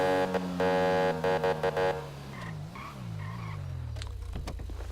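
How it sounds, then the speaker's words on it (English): A car horn in the game FiveM honks in a quick series of short blasts, followed by a wavering, siren-like tone that rises and falls. "Horn has a difference too."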